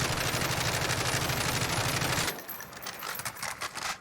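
Rapid suppressed automatic gunfire from an integrated-suppressor weapon in Modern Warfare, a dense run of muffled shots for about two seconds that then gives way to quieter mechanical handling sounds.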